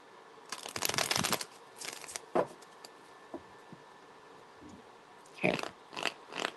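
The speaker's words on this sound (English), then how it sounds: "Shuffle one more time." Tarot cards are shuffled by hand in quiet, close bursts of riffling and rustling, with brief taps and pauses between the shuffles.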